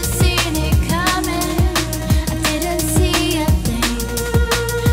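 A loud, dense electronic dance track pulses with steady pitch-dropping kick drums, bright synth stabs and shimmering highs, with no talking.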